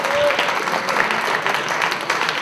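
Audience at a poetry slam claps for a poet after her scores are read, a short burst of steady, fairly close applause with a faint voice behind it.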